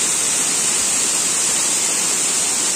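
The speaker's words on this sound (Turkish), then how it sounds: "Bakın, burası şelalenin en üst kısmı." Water rushes over the top of Savruk waterfall in Kahramanmaraş in a loud, steady, hissing roar that stays unbroken throughout, with no other sounds.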